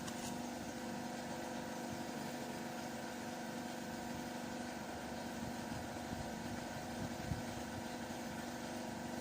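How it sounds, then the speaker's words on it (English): A vehicle engine idles steadily, a constant mid-pitched drone with a low rumble that stays even and unbroken, heard alone at a modest distance. "Don't know if you can hear me over the engine"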